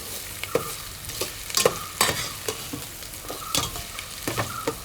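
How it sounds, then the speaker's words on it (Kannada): Chopped onion with ginger and garlic sizzles in a hot pan for tomato rice while a spoon stirs it, giving repeated scraping knocks over a steady frying hiss. "2ರಷ್ಟು ನೀರುಳ್ಳಿ ಚಿಕ್ಕದಾಗಿ ಕಟ್ ಮಾಡಿದ್ದು ಹಾಕಿ ಕೊಡ್ತೇನೆ. ನಂತರ ಒಮ್ಮೆ ಚೆನ್ನಾಗಿ ಮಿಕ್ಸ್ ಮಾಡಿ ಕೊಡಿ."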